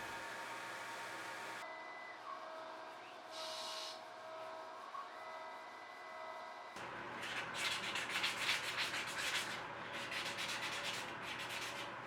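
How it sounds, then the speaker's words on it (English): Hand grinding, filing and sanding a steel Japanese sword guard: a quiet mechanical hum at first, then busy rasping and scraping strokes fill the second half, close by. "Next, I'll do a bunch of handwork, grinding, filing, sanding."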